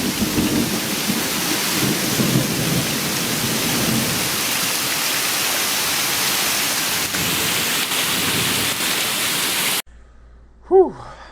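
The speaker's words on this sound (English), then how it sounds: "It is raining cats and fucking dogs out here" Heavy rain pours outside in a steady, loud hiss with a low rumbling roar beneath it for about ten seconds. It then cuts to near silence with a brief faint sound.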